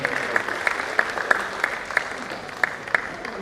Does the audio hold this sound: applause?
yes